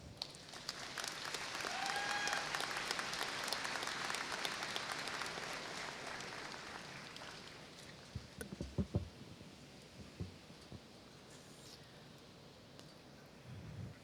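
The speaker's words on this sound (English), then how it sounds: "Please join me in giving another round of applause" A crowd applauds steadily for several seconds at a university commencement ceremony, then the clapping thins out into scattered claps and fades.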